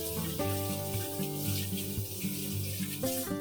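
Hands are washed under a running kitchen tap. The steady hiss of the water flows continuously beneath prominent background music.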